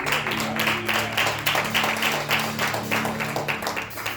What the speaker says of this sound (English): our youth a hand clap